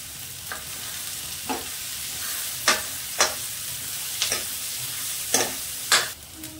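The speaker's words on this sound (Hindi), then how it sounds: "मिर्च को थोड़ा भूनने देते हैं।" Green chillies frying in a pan, a continuous loud sizzle broken every second or so by sharp scraping strokes of a spatula stirring.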